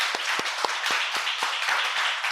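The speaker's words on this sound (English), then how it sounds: "I love how the people just coming in think we're clapping for them." An audience at a live spiritual talk applauds together, a dense, steady wash of many hands with a few rhythmic group claps standing out, sustained and fairly close throughout.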